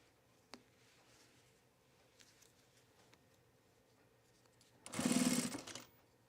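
A sewing machine, hand walked while stitching fitted pants, gives a few faint ticks and then one short, close burst of rapid mechanical stitching chatter lasting about a second.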